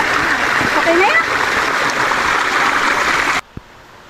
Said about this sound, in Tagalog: Eto, narating na nga namin yung 3rd and 4th falls.